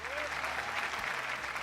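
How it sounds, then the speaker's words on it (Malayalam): A studio audience on the Malayalam television game show Super Bumper breaks into sustained, even applause, dense clapping that holds steady throughout. "അതാണ് പ്രവാസികൾക്കൊരു കയ്യടി"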